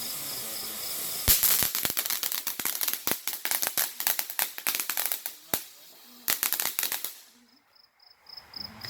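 Fireworks and firecrackers pop and crackle in rapid irregular bursts, sharp close bangs scattered throughout, with crickets chirping faintly in the night background and a quiet lull near the end.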